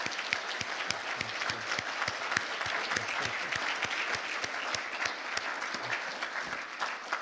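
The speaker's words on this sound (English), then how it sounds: "Let's give them a round of applause." A church congregation gives sustained applause, a steady wash of many hands clapping at moderate distance with no talking over it.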